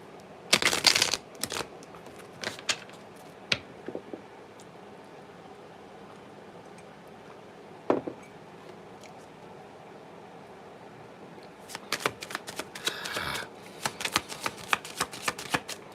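A deck of tarot cards shuffled close by: a brisk riffle at the start, scattered soft taps and slides through a quiet middle, then a busier burst of riffling and shuffling toward the end, with no talking.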